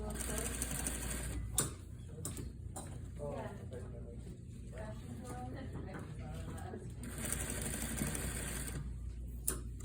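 A sewing machine stitches a quarter-inch seam in shirtdress fabric, running in close mechanical bursts separated by short pauses, while a person talks over it.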